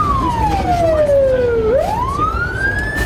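A rescue service emergency vehicle siren wails loudly and close, sweeping down in pitch, then rising again over steady road and engine rumble.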